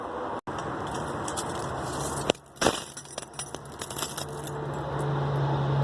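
Two door keys jangle and clink in the hand in a few short, scattered bursts over a steady low background hum, with no talking.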